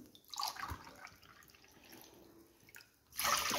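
Water poured by the cupful into a pot for basbousa syrup, a close splashing stream that fades to a soft trickle before a louder second pour at the end, with no talking.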